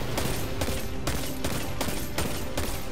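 Rapid gunfire from a weapon in the video game Destiny 2, shots cracking in a steady rhythm about every half second across the clip, loud and close with a continuous dense backdrop.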